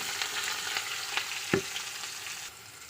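Plantain slices drop into hot oil in a kadai, and a steady close sizzle of frying follows, with a single sharp clatter partway through.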